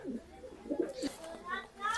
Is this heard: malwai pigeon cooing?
yes